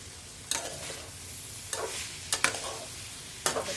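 Bean (sim) bhaji fries in a pan, a faint steady sizzle broken by a few scraping strokes of stirring spaced about a second apart.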